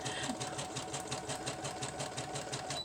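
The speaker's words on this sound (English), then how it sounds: "So I do want to sew up along here." A sewing machine stitches through paper coffee filters to make corner pockets, running at a steady rapid rhythmic whir with evenly repeating needle thumps, close and continuous.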